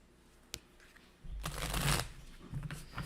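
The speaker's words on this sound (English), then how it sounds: "I haven't used this deck in a really long time, so we'll give it some good shuffling" A tarot card deck being shuffled, a sharp card snap near the start followed by a louder sustained riffle and flutter of cards, close and alone with no talking.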